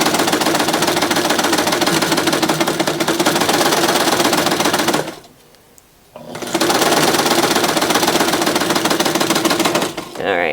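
A Johnson Ruffler sewing machine runs with a fast, steady mechanical rattle, stops for about a second, then starts again with the same close, loud chatter.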